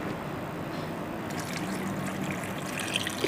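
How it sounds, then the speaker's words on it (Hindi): Water trickles steadily into a dish of freshly fried dahi vada lentil fritters for soaking, a close, continuous pouring and dribbling that stays even throughout. "अब मैं इसके अंदर पानी डाल दूँगी।"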